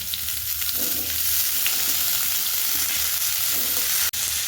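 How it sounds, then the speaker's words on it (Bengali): Potato pieces fried until reddish in a pan for pumpkin chokka sizzle steadily and loudly up close, with a crackling hiss and faint stirring throughout. "আলুটা আমার লাল লাল করে ভাজা হয়ে গেছে, এরপর আমি এর মধ্যে কুমড়োগুলো দিয়ে দেবো।"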